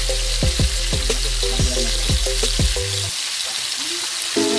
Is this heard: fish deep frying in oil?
yes